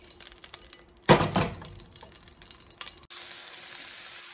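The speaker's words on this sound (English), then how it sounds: "I'm going to saute my broccoli. A quick saute." Broccoli dropped into a hot pan for a quick sauté in a chicken stir fry, bursting into a loud sizzle that fades to a low crackle, followed by a steadier hiss of frying.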